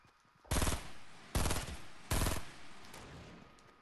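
Three loud, sharp bursts of video game gunfire crack out about a second apart, each a short rapid volley with a fading tail, over quiet background between shots.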